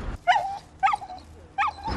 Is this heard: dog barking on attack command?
yes